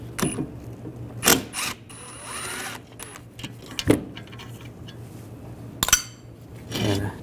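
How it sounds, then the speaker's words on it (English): Bolt coming out of a 2004-2012 Chevrolet Colorado 3.7L receiver dryer under an 8mm socket wrench: a few sharp metallic clicks and clinks in separate bursts, close and fairly quiet, with no talking. "I'm going to use an 8mm socket. Take this bolt out."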